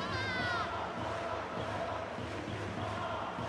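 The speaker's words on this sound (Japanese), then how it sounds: "ひときわ大きな声援が聞こえます。" In the baseball video game Jikkyou Powerful Pro Yakyuu 2016, a steady wash of crowd noise with cheering voices fills the scene, sustained and moderately distant, with no single voice standing out.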